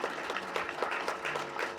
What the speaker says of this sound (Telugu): గట్టిగా మీరు దయచేసి క్లాప్స్ కొట్టాలి.